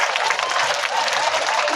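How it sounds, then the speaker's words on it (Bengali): Loud, dense applause from a large crowd at a children's winter festival event in Panchagarh district, a steady wash of clapping that runs unbroken for about two seconds. "জোরে করতালি"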